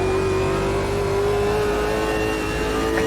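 A race car engine revs hard and steady in the sim racing game Automobilista 2, a loud sustained drone with a rising whine, heard alone without talk.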